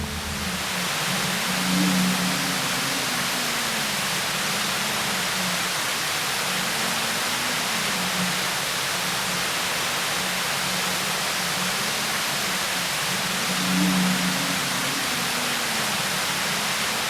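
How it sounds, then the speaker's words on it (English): A waterfall in a river gorge on the Orange River roars as a dense, continuous broadband wash, close and steady throughout, with no voices over it. "We're coming closer now to that waterfall."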